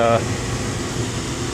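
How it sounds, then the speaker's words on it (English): A Harbor Freight venturi vacuum pump hisses steadily, a broad airy rushing noise that runs unbroken and loud, with a brief voice at the very start. "So I'm using the Harbor Freight vacuum Venturi thing."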